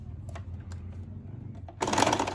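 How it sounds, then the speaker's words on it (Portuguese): Sewing machine stitching the shoulder seams of a dress with a straight stitch, starting with a few faint clicks over a low hum, then bursting into a loud, close, rapid whirring run. "E agora a gente vai unir aqui os ombros, né? Que já é a nossa manga, com uma costura reta também."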